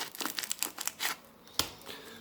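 Paper is crumpled and torn in short crisp bursts while a hole is made for a children's craft project, with one sharper rip near the end; quiet and close, no speech.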